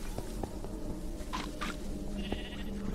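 Sheep in the Minecraft Dungeons video game let out two short bleats in quick succession over a steady hum of game background sound, with no voices.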